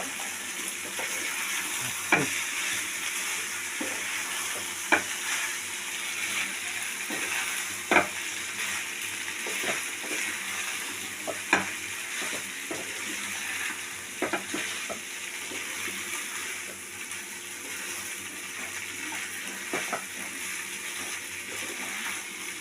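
Vegetable pasta with egg stir-fried after a splash of soy sauce, giving a steady close sizzle with sharp spatula scrapes and clacks against the pan every few seconds, no voices.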